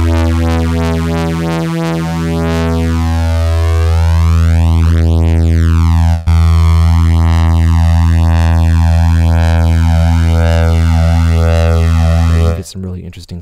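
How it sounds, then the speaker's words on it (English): A U-he Diva software synth plays two detuned saw waves through a phaser effect, giving a loud, sustained buzzy drone whose harmonics sweep up and down. It runs alone and cuts off abruptly near the end. "You get some really interesting sounds just out of 2 saw waves"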